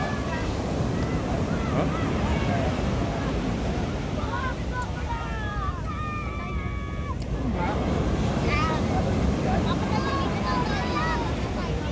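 Big waves breaking near boats on the sea, a constant heavy roar of surf and wind buffeting the microphone throughout, with a voice speaking briefly over it.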